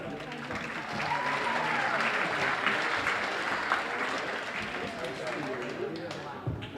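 Steady applause from a school gym crowd at a basketball team introduction night, sustained clapping with crowd murmur and some voices mixed in throughout.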